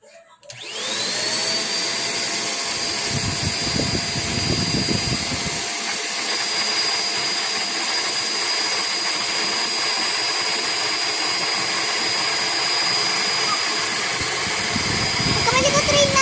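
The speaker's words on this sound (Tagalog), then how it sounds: "dahil may vacuum tayo, mas mabilis yung process ng paghigop" A vacuum cleaner runs steadily with a continuous whine and rush of air, sucking the air out of a space saver storage bag at home; a person talks briefly early on and again near the end.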